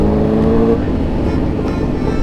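A motorbike engine revs loudly nearby, its tone holding briefly before falling into a rough idle rumble.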